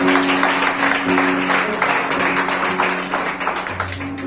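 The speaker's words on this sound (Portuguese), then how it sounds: "Receba o servo do Senhor com a salva de palmas." A church congregation claps at an evangelical service, producing a loud, continuous wash of many hands clapping close by, with a low steady hum underneath.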